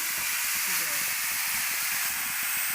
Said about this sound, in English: I'll put the entire gajar or the grated carrot and try to coat it with